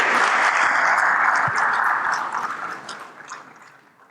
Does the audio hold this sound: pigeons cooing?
no